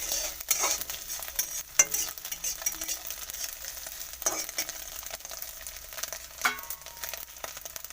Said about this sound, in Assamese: প্ৰথমতে কণীকেইটা এনেকৈ ভাজি ল'ব